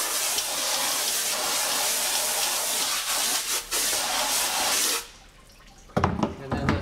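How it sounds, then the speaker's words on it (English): Water rinsing stencil remover off a screen-printing screen, a steady broad hiss of spray or running water for about five seconds, a short pause, then renewed splashing. "So just rinse it off."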